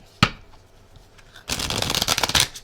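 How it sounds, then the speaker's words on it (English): Tarot cards shuffled by hand: a single sharp snap, a short pause, then a close, crisp riffling flutter lasting about a second. "I'm going to give them a shuffle."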